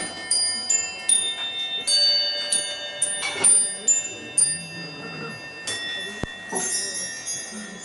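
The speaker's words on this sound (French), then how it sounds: "On va faire résonner les cloches." Bells ring out in a series of bright, resonant strikes that overlap and ring on, with a soft voice murmuring underneath.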